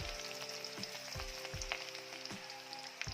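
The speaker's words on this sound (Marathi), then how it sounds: "लसूण टाकायचं ते लसणाचा छान रंग बदलेपर्यंत तो असा परतून घ्यायचा" Garlic sautéing in hot oil in a pan, a steady soft sizzle with occasional stirring clicks of a utensil, close and fairly quiet.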